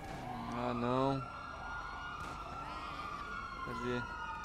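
Police sirens wail in GTA Online, a loud wavering siren with rising and falling sweeps, overlapping tones under steady traffic noise, and one short burst of sharper yelp tone near the end.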